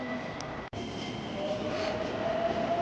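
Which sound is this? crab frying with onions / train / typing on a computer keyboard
train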